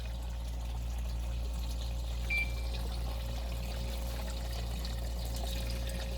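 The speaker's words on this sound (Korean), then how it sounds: "물이 빠져나오는 출수구 쪽은 이렇게 물이 풍부하기 때문에 문제가 되진 않지만" Water pours and trickles steadily from the outlet of a homemade PVC NFT hydroponic pipe, a soft, continuous flow over a low constant hum from a pump, faint and without voices.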